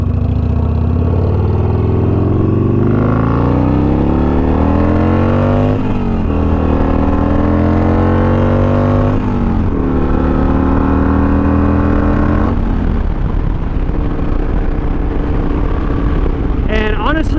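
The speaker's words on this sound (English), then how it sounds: "I'm probably going to do a couple full throttle pulls." A Harley-Davidson Iron 883 motorcycle under full-throttle pulls, its engine rising in pitch through gears with shifts between, loud and close with heavy wind noise throughout.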